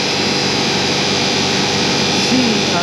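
A ShopBot CNC router spindle whines steadily, loud and close, with a constant high-pitched hum and no change over the moment.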